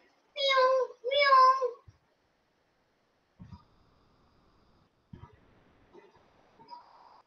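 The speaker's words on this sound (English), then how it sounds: "Which animal says meow, meow?" A cat lets out two clear, close meows in quick succession, followed by a few faint soft noises in a quiet room.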